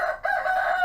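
A single rooster crows up close and loud, a short harsh cock-a-doodle call broken by a brief dip before the strained final note, with no people talking.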